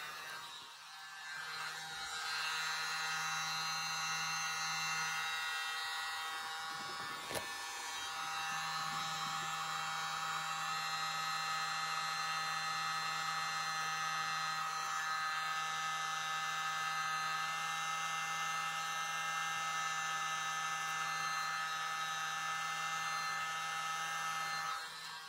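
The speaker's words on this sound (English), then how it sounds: "Use my mini blower." A small handheld mini blower pushes paint across a fluid art pour, a steady, loud, high-pitched electric whine with a constant airy hiss that runs nearly unbroken and close up.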